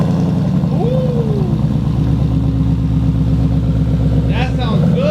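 A 2017 Ford Mustang GT with the Coyote 5.0 V8 and a Borla exhaust rumbles close by at a steady, deep idle just after starting, with a brief squeal near the end.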